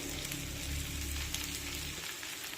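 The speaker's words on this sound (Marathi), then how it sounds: "या थालीपीठावर जे आपण छिद्र करून घेतलेले आहेत ना, त्यावर तेल सोडूया." Oil sizzling steadily around a sprouted mung bean thalipeeth as it fries in a pan, a continuous dense crackle held at an even level throughout, close and alone.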